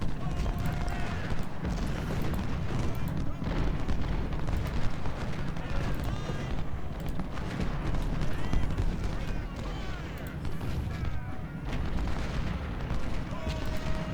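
Civil War artillery guns firing in Ultimate General: Civil War, a dense continuous battle din of booming cannon and crackling musketry, with a voice talking throughout.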